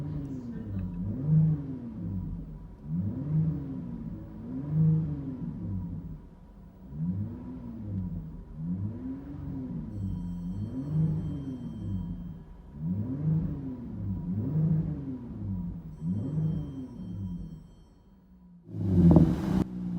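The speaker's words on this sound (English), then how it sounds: "Interior tone level is mild with Rich's Street Demon Performance Mufflers." A 2018 Jeep Grand Cherokee Trailhawk V6 with true dual cat-back Street Demon performance mufflers, heard from inside the cabin as a mild, low droning exhaust tone rising and falling in repeated rev swells, with a louder burst at the end.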